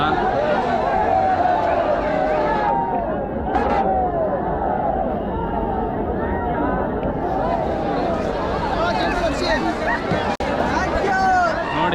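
A huge festival crowd at the Rajabeedi Utsava street procession, where chatter, shouts and babble blend into a loud, dense, continuous hubbub from beginning to end.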